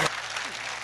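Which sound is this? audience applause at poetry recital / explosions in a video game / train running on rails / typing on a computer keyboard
audience applause at poetry recital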